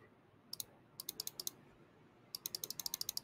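Rapid bursts of crisp keyboard and mouse clicks in a quick run, a pause, then another fast series, close and fairly loud against a quiet background.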